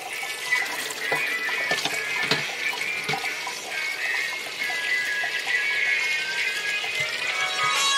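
Water runs steadily over a Sony Xperia acro S phone in a close, continuous splashing hiss with small irregular drips and spatters throughout.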